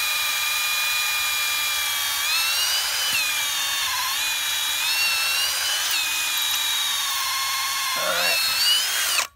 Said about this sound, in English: when I drill down this one, it can fracture these other two ways